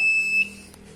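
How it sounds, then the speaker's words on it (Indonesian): A flood warning system's buzzer in a weather monitoring and early warning setup sounds as a steady high-pitched electronic tone. It is loud for the first half of the second, then cuts off, leaving faint background. "Nah, sehingga ini kedeteksinya banjir dan buzzer nyala."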